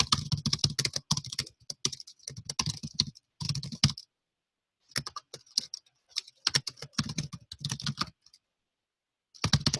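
Fingers type on a computer keyboard in short irregular bursts of rapid clicking keystrokes, separated by brief pauses, close and clear with no one talking.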